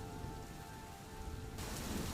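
Heavy monsoon-style downpour in a cartoon story, a constant broadband rain hiss that grows brighter and louder near the end, steady and unbroken with no one speaking.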